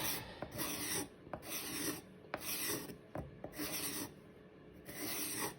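Hand file rasping back and forth over a carved form line, shaping it down in five long, steady strokes with brief pauses between, close and fairly loud with no talk.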